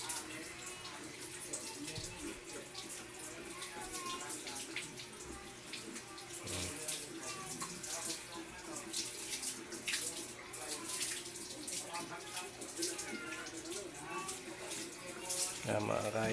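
Tap water runs steadily into a basin while a pet dog is bathed by a child, a continuous close splashing wash with occasional thumps, voices speaking now and then over it.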